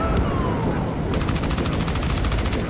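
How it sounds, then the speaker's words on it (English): Soviet RPG teams firing multiple rockets at an M113 in the Armored Brigade II war game, heard as a dense burst of rapid shots and booms over a short stretch, with sharp repeated cracks in the second half. "here we're gonna try and kill an M113 with RPGs, and they fire multiple shots."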